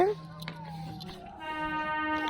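A train horn blares as a train pulls into a station, with sustained tonal blasts rising over the surrounding crowd noise and voices.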